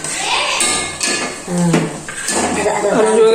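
Stirring ground onion paste in a cooking pan for a village-style mutton gravy: close scraping and clinking of a utensil against metal, with a voice talking over it.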